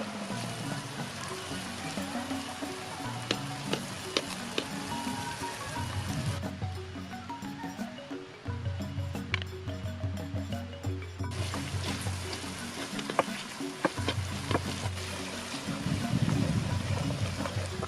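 Coconut milk is stirred into opor ayam in a pan, giving soft liquid sloshing and gentle trickling with faint clinks of a utensil, quiet and continuous, with a low hum underneath.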